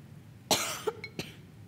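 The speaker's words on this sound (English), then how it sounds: "I really apologize for this coughing." A person coughs up close, one strong burst followed by a couple of smaller coughs.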